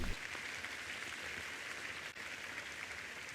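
A church congregation clapping to praise the Lord, a steady dense wash of applause from many hands, even and sustained throughout, with no voices on top.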